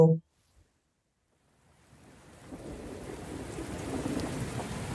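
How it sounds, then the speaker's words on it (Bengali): After a brief voice and near silence, a soft rain hiss fades in and builds steadily, continuing as a low, even patter of rain that has fallen since the night before. "কেবলই চলছে বৃষ্টি।"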